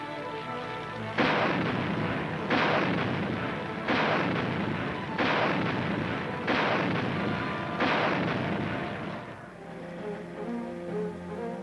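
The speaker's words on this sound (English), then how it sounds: "Anti-aircraft weapons represent another important area of Board 4 activity. They are put through rigorous firing tests regularly." Anti-aircraft guns fire during military weapons tests in six heavy, evenly spaced booming rounds. The shots come roughly every 1.3 seconds and each leaves a rumbling tail. A quieter lull follows.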